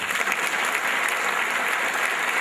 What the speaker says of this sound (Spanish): Que le aplauda al Rey.